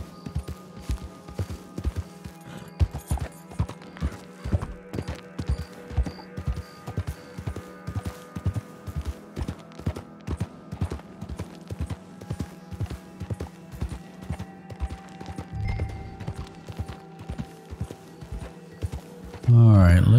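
Horse hooves clip-clop steadily in the Red Dead Online video game, a close, regular rhythmic trot running throughout, with a louder burst at the very end.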